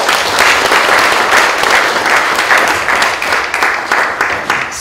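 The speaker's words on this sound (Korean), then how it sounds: "박수 한번 맞이하겠습니다." Steady, dense applause from a church congregation welcoming a pastor to speak at a Korean mission conference, loud and sustained throughout with no speech over it.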